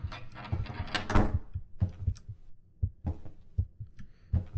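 Low heartbeat thumps from a horror video game pulse in a steady rhythm, mixed with scraping and clattering noises, with no talk.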